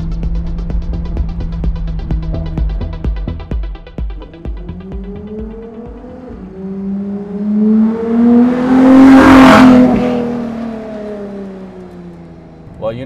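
A Ferrari LaFerrari idles with a throbbing burble, then revs up, the engine note sweeping up to a loud roaring peak before falling back to a low rumble, heard close.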